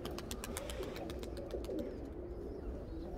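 Domestic pigeons cooing softly in a loft amid a low background rumble, with faint chirps and flutters mixed in, fairly distant and continuous.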